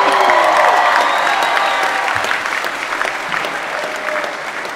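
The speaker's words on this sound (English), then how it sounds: "Applaud for yourself, yeah." A graduation commencement audience for the class of 2018 at Folsom Lake College bursts into sustained applause with a few cheers, loud at first and easing slightly over several seconds.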